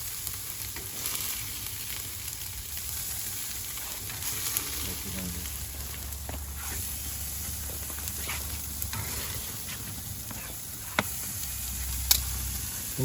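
Steaks sear over a wood-fired grill with flame control, giving a steady, close sizzle and crackle with a low rumble beneath and a few sharp pops near the end.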